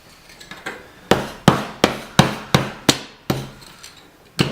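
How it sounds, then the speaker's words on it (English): A hammer strikes the edge of a thin brass sheet, shaping a metal rose in a kitchen, in a steady series of about nine sharp, ringing metallic blows, each decaying quickly, close and fairly loud with no talk. "take your hammer and just start hammering the edge around"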